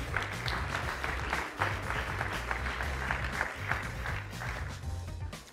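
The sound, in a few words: audience applause for the judges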